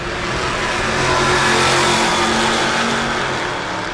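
Mopar B-body and A-body naturally aspirated big block race cars at a drag race, a loud sustained engine roar that swells and fades over a few seconds with no talk.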